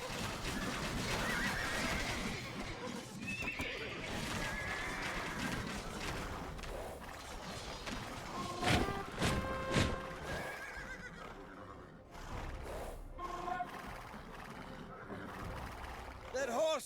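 Horses in pens in Age of Empires 2 neighing and whinnying with clip-clop hooves amid battle clamor and game sounds, several sharp calls in the middle, under voiced narration.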